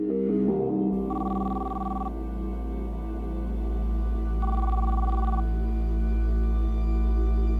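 Phone ringback tones repeat in steady evenly spaced pairs of beeps over a low hum while a call goes unanswered, with no voices.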